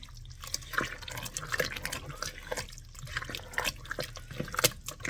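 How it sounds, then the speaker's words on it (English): Honky tonk casserole is stirred in a pot on a stovetop, giving soft wet squelches and scraping with irregular clicks of the utensil against the pot, quiet and close. "Let's give this a stir."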